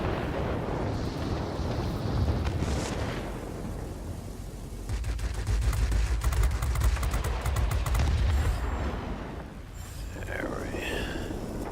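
Rapid bursts of heavy 20mm aircraft cannon fire mixed with rumbling explosions from World of Warplanes combat, dense and continuous, with a short whine near the end.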